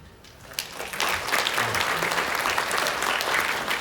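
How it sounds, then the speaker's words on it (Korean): An audience at a Jeju Forum session of the Jeju provincial council breaks into applause after a presentation, steady sustained clapping from a crowd filling the room for several seconds. "뜨거운 박수로 마무리하겠습니다"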